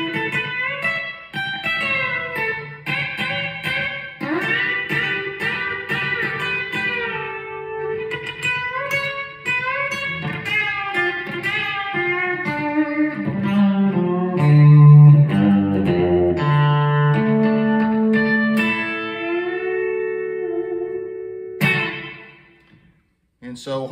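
B-bender electric guitar playing a song intro, twangy bent notes and chords rising and falling in a lively country phrase, close and clear, with effects and a touch of echo, fading out at the end.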